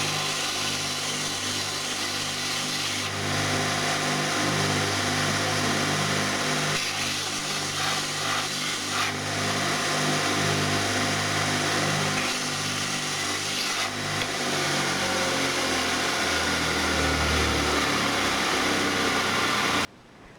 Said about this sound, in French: comme promis, un petit tour sur la ponceuse à bande pour enlever les traits qui sont là